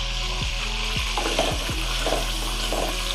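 Mutton and cubed onions fry in a pot for bhindi gosht, with a constant loud sizzle. A spoon stirs the pot in several distinct scraping strokes at an uneven pace.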